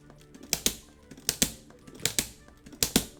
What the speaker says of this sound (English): It was just uppercut tap, uppercut tap, uppercut tap.